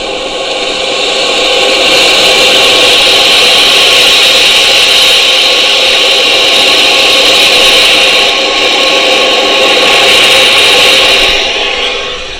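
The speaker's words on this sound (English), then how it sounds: "That sound that you heard is the sound of the fire, going to the trees and lighting them on fire." A wildfire firestorm west of Manford, Oklahoma, burning into trees and setting them alight: a loud, continuous roaring rush with steady hiss across the whole span and no pauses, no talk over it.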